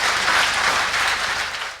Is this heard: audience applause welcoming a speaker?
yes